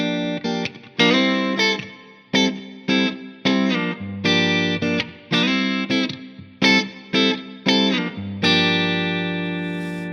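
An electric guitar with effects strums a minor 7 chord voicing for a Dorian sound in short rhythmic bursts, with choppy stabs and brief pauses and a deeper bass note entering partway through. The final chord rings out and decays.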